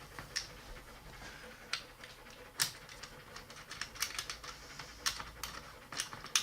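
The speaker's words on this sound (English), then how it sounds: "That noise is my dog breathing in the background." A dog breathes and pants in the background indoors during setup of a digital night vision scope, soft irregular huffs and clicks with faint rustling, no talk.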